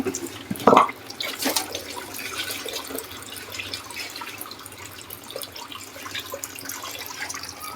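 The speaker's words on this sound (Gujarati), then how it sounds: "બે વખત આપણે ધોઈ નાખશું એટલે ચોખા સરસ રીતના ધોવાઈ જાય" Rice being washed with water in a home kitchen: soft, close sloshing and trickling, with a sharper splash near the start, then quieter swirling water with no talking.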